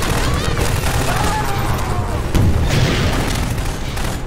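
Dense, loud rocket explosions and gunfire in Half-Life 2 during a fight against striders, with rumbling booms rolling continuously and layered battle noise throughout.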